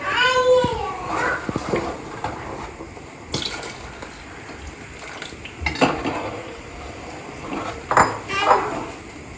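A ladle knocks and scrapes against a metal pot while wheat payasam with coconut milk is stirred, giving irregular clinks and clatters with a brief ringing ping, as a voice speaks now and then between the strokes.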